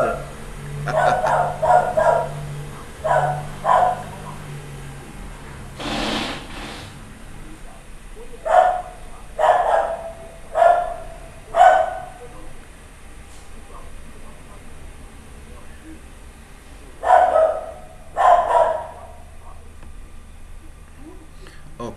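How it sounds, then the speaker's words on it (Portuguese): A dog barks in repeated bursts of two or three loud barks separated by pauses, fairly close, with a passing car and low background hum in between. "Cachorro latindo"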